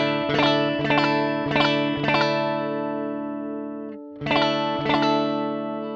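Electric guitar with a coil-split humbucker running through a graphic EQ pedal, playing bright strummed chords in a steady rhythm, with a brief gap before two more hits, moderately loud with no voices.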